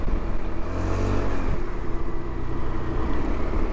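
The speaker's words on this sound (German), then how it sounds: "Dadurch, dass der gesamte Fahrtwind weggenommen ist, hört man jetzt den Motor wieder mehr." Piaggio Beverly 300 scooter engine droning steadily while riding behind a tall windshield, a continuous close low hum with slight revving and no wind roar or talk.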